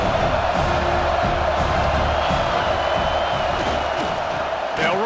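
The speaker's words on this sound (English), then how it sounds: "This crowd knows when to bring it." Football stadium crowd cheering in overtime, a loud, unbroken roar filling the air from start to finish, with a voice talking over it.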